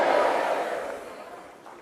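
A church congregation applauds and cheers in praise, a broad crowd roar that starts loud and fades steadily over about two seconds, with no single voice standing out.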